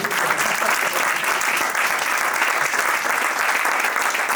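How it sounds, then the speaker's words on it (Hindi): A congregation at a Hindi-language Christian church service applauds, producing dense, continuous clapping that stays steady and fairly loud for the full few seconds without a break. "प्रभु के लिए ताली बजाएंगे"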